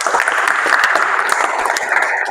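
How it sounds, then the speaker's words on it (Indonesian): Students clap their hands together during a pencak silat class, a dense patter of many overlapping claps sustained evenly throughout at a steady, fairly loud level. "Yo, tepuk tangan dulu."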